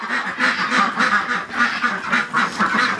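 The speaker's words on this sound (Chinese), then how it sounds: "这个鸭子啊，这是早上出去，" Domestic ducks on a rural Chinese farm quack loudly and continuously, a dense overlapping chorus of repeated calls close by with no talking.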